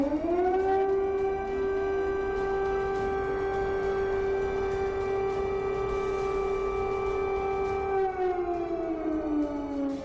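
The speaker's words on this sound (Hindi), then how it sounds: "चौबीस घंटे से क्रेमलिन में सायरन बज रहा है।" A civil defense siren wails steadily and loudly for the whole stretch, its pitch holding level before sliding down near the end, with no voices.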